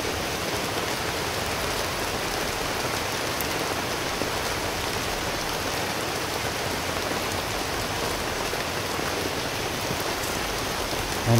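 Rain in a video game falls as an even, unbroken hiss of drops hitting the ground, steady and fairly loud throughout, with no voices.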